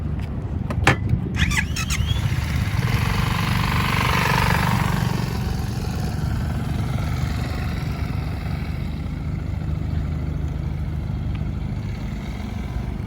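A scooter leaned hard into a tight U-turn circle, its steady engine drone running loud and continuous throughout, with a brief squeal of tyre or brakes near the start.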